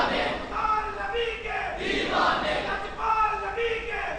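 A large crowd chants a religious slogan in unison at a gathering in Shaheena Abad, Gujranwala. The massed voices are loud and sustained, rising and falling in waves throughout.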